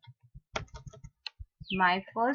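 Someone types on a computer keyboard, sounding as a few scattered close key clicks and taps, and then a voice starts speaking near the end.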